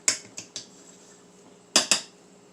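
A metal fork clinks against a dish while chicken nuggets are breaded, five sharp close taps: three quick ones, a pause, then two more.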